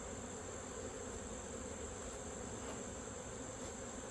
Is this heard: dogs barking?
no